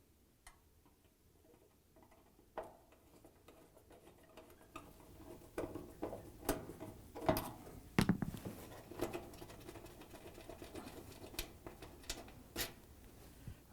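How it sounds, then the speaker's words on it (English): A flathead screwdriver backs out the screws holding a door switch on a Whirlpool, KitchenAid or Maytag appliance, giving faint scattered ticks and small metallic clicks that grow busier partway through, with no talking. "I'm going to remove the screws"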